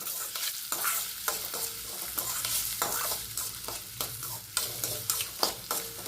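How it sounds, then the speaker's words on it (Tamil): Onions with green chilli and curry leaves sautéing and being stirred in a pan for a Tamil pacha more kuzhambu: a steady close sizzle broken by repeated scraping stir strokes, with no talking. "இதில் கொஞ்சமாக ஒரு பிஞ்சு போட்டு வதக்கினிங்கன்னா ஈஸியாக வெங்காயம் வதங்கும்"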